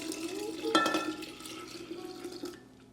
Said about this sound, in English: we're going to pour it into the pitcher